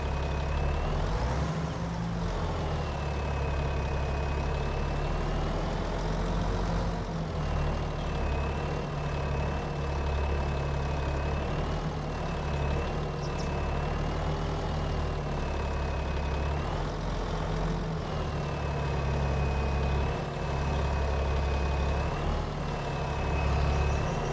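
A farm tractor's diesel engine idles with a steady low rumble and a faint whine that rises and dips in a few slow cycles, close by and alone.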